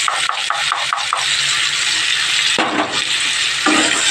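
Fried beans are stirred with a mustard, poppy seed and green chilli paste with tomato, giving a rhythmic scraping at first and then a steady rubbing sizzle in the pan.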